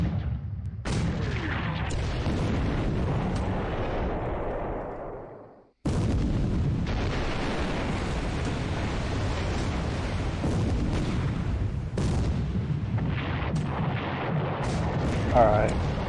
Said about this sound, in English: Now I don't have enough detail what actual gun is firing apparently